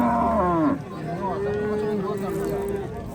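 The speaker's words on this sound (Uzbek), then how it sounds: "Mana mana sigirni qaranglar, qisir ekan." A cow moos loudly and close at a livestock market, a long low call that rises and then falls, followed by other cattle calling further off over crowd murmur and talk.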